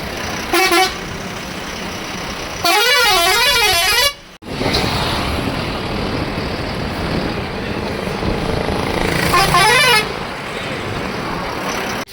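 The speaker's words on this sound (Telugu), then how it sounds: "బొలరోకి అయితే ఓల్వో హార్న్ అయితే పెట్టించినాడు, ఎయిర్ హార్న్." A Volvo air horn fitted to a Mahindra Bolero, fed from a separate air tank, sounds in three loud, near blasts with a warbling, wavering tone, one brief and two longer, over a continuous engine rumble.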